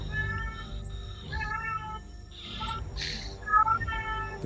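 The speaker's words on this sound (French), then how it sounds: "Oui, il y a un chat." A pet cat meows repeatedly in a quiet room during a tabletop role-playing session, its rising cries clear and fairly close over a low background hum.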